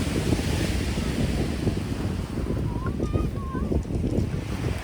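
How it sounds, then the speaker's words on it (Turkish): Steady wash of surf and wind rushing across the microphone on a sandy beach in Antalya, constant and fairly loud, with a few faint high tones drifting over it. "Birazcık dalgalı. Rüzgar var çünkü ama deniz çok güzel."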